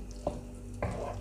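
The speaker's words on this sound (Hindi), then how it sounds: "इसके अंदर हम अपने ये मगज़ शामिल करते हैं और इसको हल्के हल्के हाथों से मिक्स करेंगे" Brains being gently folded into masala in a pan, two soft spoon strokes against the pan over a faint, steady sizzle, close and quiet.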